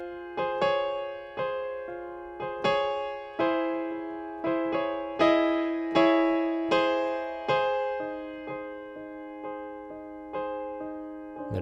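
Slow solo piano right-hand melody from a song, single sustained notes struck one after another at an unhurried, even pace, each ringing and decaying before the next, with no voices.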